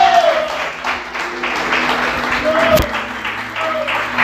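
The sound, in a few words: congregation applauding in church service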